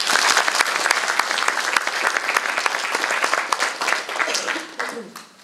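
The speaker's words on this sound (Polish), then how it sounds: "gorące brawa również dla nich" A crowd at an 11 November Independence Day ceremony gives warm applause to volunteer fire brigade flag bearers, steady dense clapping that tapers off near the end with a voice coming in.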